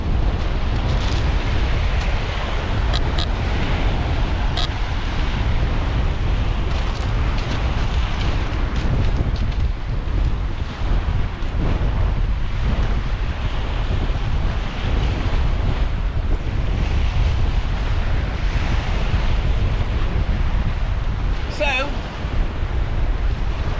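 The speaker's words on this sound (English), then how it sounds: "Wind keeps dropping a little bit." Strong wind blows across the bank of the River Humber during windy sea-fishing conditions, a loud continuous roar buffeting the microphone with surf-like rushes and no pauses.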